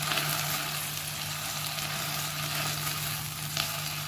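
Ground ginger, garlic, onion and tomato paste frying in hot oil for a prawn dish, giving a steady, close, even sizzle with no break and no voices.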